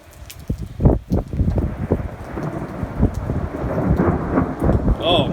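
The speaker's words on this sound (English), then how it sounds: "Ooh, another lightning strike." Thunder rumbles through a heavy rainstorm with hail in Chico, California, loud and close, with deep booming rolls over constant rain hiss, alone without speech.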